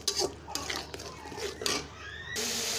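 Spices for a papaya curry are stirred and fried in a pan. A spoon scrapes in short, quiet strokes, and a soft steady sizzle rises at the end.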